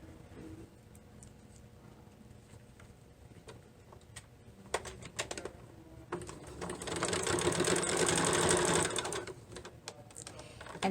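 A sewing machine stitches a fabric face mask seam, starting with soft ticking, then running in a louder steady whir for a couple of seconds before slowing down again. Close and fairly quiet.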